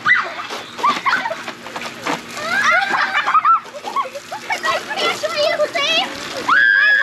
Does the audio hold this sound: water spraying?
yes